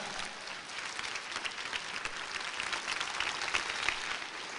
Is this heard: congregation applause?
yes